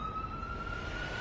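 A real ambulance siren passes outside near a hospital, a faint, steady tone over low background rumble, brief and distant.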